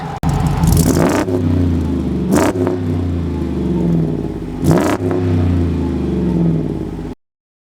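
A Kaiser Jeep M715 military truck engine rumbles loudly through its exhaust, revving up in three sharp bursts with a deep, throaty roar between them, close by.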